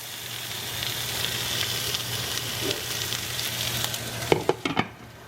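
Chicken pieces sear and sizzle in a hot pan with a steady, dense crackle, then a few sharp clatters near the end as a lid or utensil knocks the pan.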